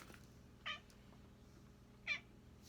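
A cat meows twice indoors, two short separate calls about a second and a half apart, faint over quiet room tone.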